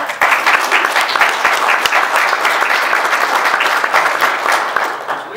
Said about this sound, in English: And I want to give them a big round of applause.